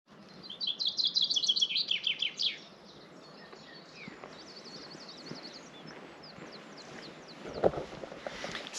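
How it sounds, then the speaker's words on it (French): Small birds chirp on a calm morning along a coastal trail, a rapid series of bright tweets up front fading to scattered, fainter calls amid quiet surroundings. "Les petits oiseaux et le soleil"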